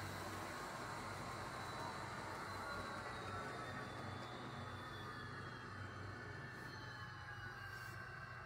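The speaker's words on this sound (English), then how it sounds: "here's our train. This is the locomotive that I've been trying to quiet down" A steady, continuous mechanical rumble and whir of a running Rapido F40PH-2D model locomotive, loud and close, with a constant gear drone and no pauses.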